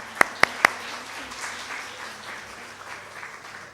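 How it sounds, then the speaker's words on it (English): Three sharp, close claps open, then a softer, sustained round of crowd applause follows for a multifaceted speaker, an Indian actress and jewelry designer, being introduced at a talk. "A big round of applause for her."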